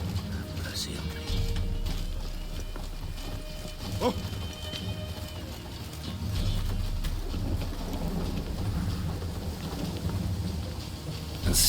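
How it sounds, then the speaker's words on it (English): Thunderstorm with rain in The Witcher 3, with steady rain hiss, low rumbles of thunder and occasional horse hoof clops; speech is faintly present. "A storm, damn it."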